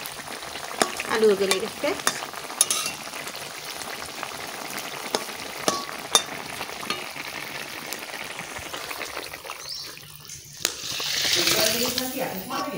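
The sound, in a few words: fish frying in a pan with greens and potato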